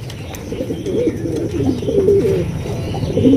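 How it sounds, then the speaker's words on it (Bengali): A pair of black Lakha pigeons cooing close by in repeated low throaty rolls, steady and fairly loud, with light rustling behind. "এখানে রয়েছে একজোড়া লক্ষা কবুতর, ব্ল্যাক কালারের লক্ষা"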